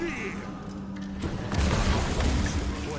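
Explosions of grenades in the zombie strategy game They Are Billions, a deep boom arriving midway and rumbling on, with someone talking over the start.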